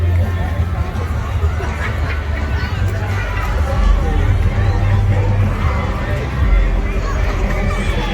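Hubbub from a crowd at the Andouille Festival in Louisiana: steady, dense babble of many voices mixed with background music, with no one voice standing out, filling the space evenly throughout.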